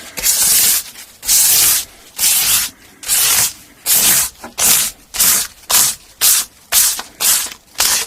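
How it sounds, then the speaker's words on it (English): Sandpaper rubs back and forth along the fret edges of a 1980 Kay K30 Les Paul copy guitar, a loud close rasp in about a dozen even strokes that quicken toward the end. "I'm taking the time to do a bit of rubbing with the sandpaper on the edges"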